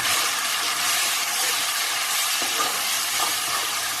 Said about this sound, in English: cook these spices for about 2 minutes till the oil releases